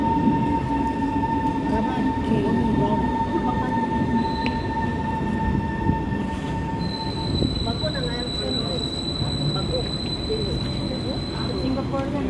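A train at Changi Airport in Singapore rolls along with a continuous rumble and high, sustained wheel squeals and tones, loud and close, with people talking faintly in the background.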